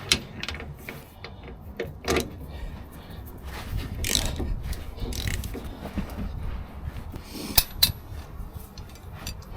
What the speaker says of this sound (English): I had to get the breaker bar out on these, and all of these bolts pretty much fought me the whole way off